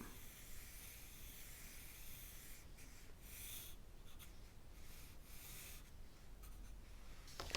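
A pen or pencil scratches on paper while drawing a unit circle for a trigonometry problem, producing a close, quiet, continuous rubbing hiss with brief strokes and pauses.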